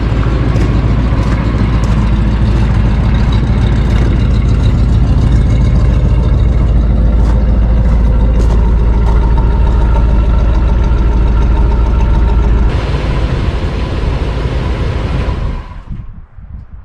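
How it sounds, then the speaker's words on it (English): A 1973 GMC 454 V8 with freshly changed spark plugs idles loud and close in a steady low rumble, then cuts off near the end. "Still running good."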